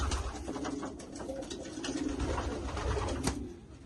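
Soft, low cooing from a female pigeon repeats in gentle phrases, close by, over a faint background hum.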